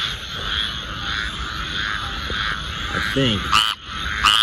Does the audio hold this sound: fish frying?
no